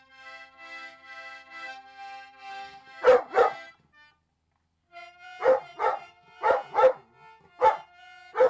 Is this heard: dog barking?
yes